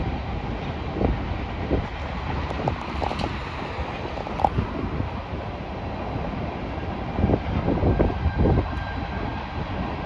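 A BNSF freight train hauling autorack cars rumbles past in a sustained, loud roar with rattling wheel and car clatter, a few sharper bangs standing out, and no one speaking.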